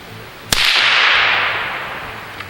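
A CCI Copper 22 round fires once from a 22-inch barrel about ten feet from the microphone, a sharp, loud crack followed by a long, fading echo of noise.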